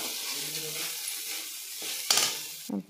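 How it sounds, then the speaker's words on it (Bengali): Soaked raw sago coated in ghee sizzles in a pan as it is stirred for a sweet sago pilaf, a soft steady fry broken near the end by a few sharp spoon scrapes and pan knocks. "এখন আমি ঘি মাখা কাঁচা সাবুগুলো দিয়ে দিলাম"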